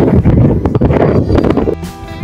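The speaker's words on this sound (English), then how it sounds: "Very windy today." Gusty wind buffets the microphone in loud, rough bursts on an outdoor pedestrian walkway in Nairobi, a steady roar of rushing air with no clear voices.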